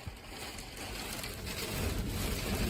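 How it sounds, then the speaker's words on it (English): Steady, roaring canyon wind during a monsoon buffets the microphone throughout, building slightly toward the end, with a rain-like wash underneath and no talking. "Look at how windy it is. Probably 30 to 40 mile an hour wind."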